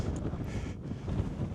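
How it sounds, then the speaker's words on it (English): Strong wind buffeting the microphone on a cold, wet mountain summit, a continuous low roaring rumble with gusty fluctuations. "It's cold, it's wet, it's windy."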